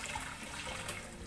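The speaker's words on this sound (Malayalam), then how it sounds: "2 കപ്പ് അരിക്ക് 4 കപ്പ് വെള്ളം അതിൽ ഒഴിച്ചു കൊടുക്കുക" Boiling water is poured into a pot of rice, two cups of rice to four cups of water, for ghee rice; a soft, steady watery rush runs briefly and fairly quietly with no talk.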